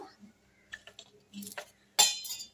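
A mixer grinder jar clinks and knocks as ginger and green chillies go in, with sharp clattery taps and a louder clink near the end, close and fairly quiet between bursts.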